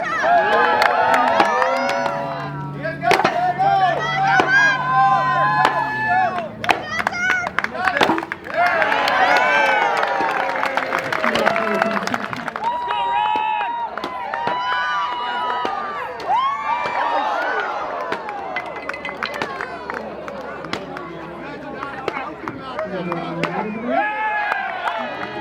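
A crowd cheering and shouting at an Independence Day event in Wrangell, Alaska, lively voices rising and falling for a sustained stretch with scattered whoops and some clapping, an announcer talking over it.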